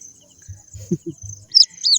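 Newly hatched baby birds cheep in a nest found at night: a few soft, close peeps with short low taps, then two sharp high chirps near the end, a faint steady whine behind, no talking.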